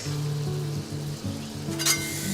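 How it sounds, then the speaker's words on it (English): Burger patties sizzle in a hot cast iron pan with melted butter, a steady close frying hiss with a faint clink near the end. "And now it's time to add the burgers."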